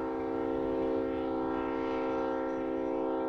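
A freight train loaded with orange juice passes, its horn sounding steadily with a sustained harmonic blare over a low rumbling rail noise, loud and unbroken throughout.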